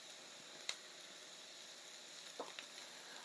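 Minced garlic and onions sizzle in a pot for a one-pot cheesy dinner, a steady faint hiss of frying with a couple of small pops and ticks, heard alone.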